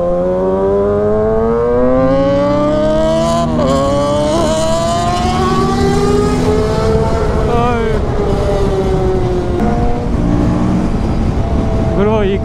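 A loud racing engine drones close by for the whole stretch, its pitch rising and falling as it revs, while voices talk over it.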